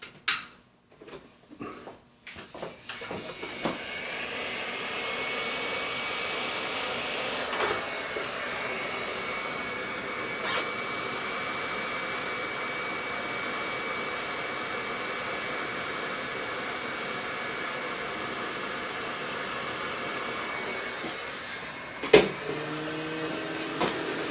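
Heat gun warming a part during repair work on a Marantz 2238B stereo receiver, a steady blowing whir that runs for about twenty seconds after a few clicks and handling knocks, with more clatter near the end.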